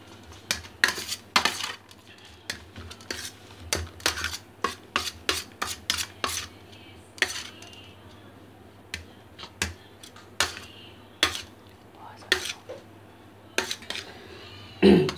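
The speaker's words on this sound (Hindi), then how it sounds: "इसको मिलाने के लिए आप एक बड़ी चम्मच का इस्तेमाल करिए।" A big spoon mixing a samosa filling of paneer and peas, giving sharp, close metallic clicks and scrapes in an irregular series over a low steady hum, with no talking.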